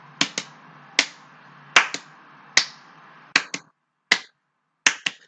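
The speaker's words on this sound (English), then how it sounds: "Now double claps" Sharp hand claps in pairs, close and loud, five or six double claps spaced about a second apart with a single clap between, in a quiet room.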